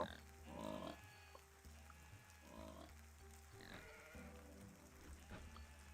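Sheep in the video game Necesse bleating in short repeated calls, several overlapping bleats at close range over a low background hum, fairly quiet.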